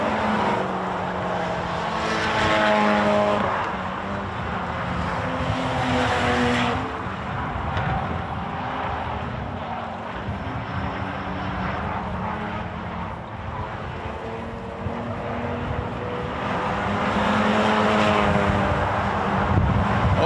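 Race cars power through the corners at a speedway in a main event, a continuous engine roar that swells, dips and rises again over twenty seconds, with wind buffeting and no clear talking.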